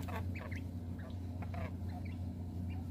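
A quail makes faint, brief chirping and squeaking calls in a few scattered bursts over a steady low indoor hum, with no speech.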